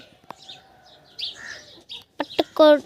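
A hen clucks in a short burst of sharp calls near the end, after quieter scattered chirps and faint rustling.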